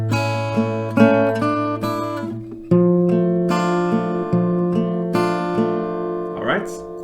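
An acoustic guitar plays the verse pattern of a song, with ringing chords and picked notes in a steady rhythm, played alone and up close.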